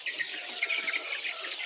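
Layer chicks crowd the feeders in a dense chorus of overlapping high cheeps and soft clucks, continuous and close with no talking.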